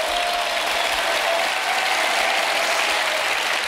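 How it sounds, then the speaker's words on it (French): Studio audience applause on a French TV talk show, a dense, steady wash of many hands clapping at full volume for the whole stretch, with no voices over it. "Rebecca, ça mérite bien un petit applaudissement pour vous."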